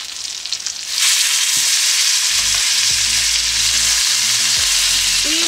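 Lamb sears in a hot pan with a loud, steady sizzle that swells after the first second and continues close up, with no voices.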